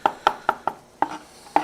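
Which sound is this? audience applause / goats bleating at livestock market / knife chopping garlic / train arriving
knife chopping garlic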